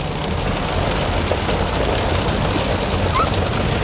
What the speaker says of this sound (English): Check out all this hail.